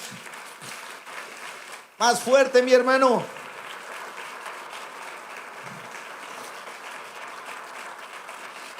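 A short burst of clapping from a church congregation lasts about a second, cutting in after a man's spoken words and fading back into quiet room tone.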